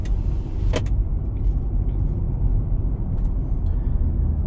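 A 2006 Mercury Grand Marquis accelerates onto an interstate, giving a steady low engine and road rumble from inside the cabin, with a brief sharp click or rattle near the start.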